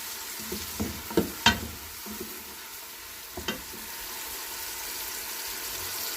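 Soft, steady sizzle of onions frying in a pan until brown, with a few sharp clinks and scrapes of stirring scattered through the first few seconds.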